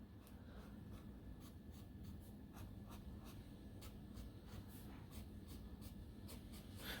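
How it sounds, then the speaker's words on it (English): A Sailor King of Pens fountain pen with a medium nib writing on paper: soft, close scratching strokes in a quick irregular rhythm over a faint steady background hum, no voices. "But it writes perfectly from all angles."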